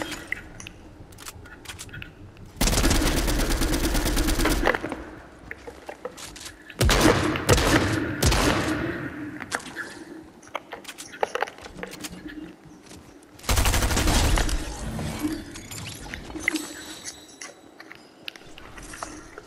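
Bursts of rapid automatic gunfire from a shooter video game erupt in several loud volleys, separated by quieter stretches of scattered shots and game sounds.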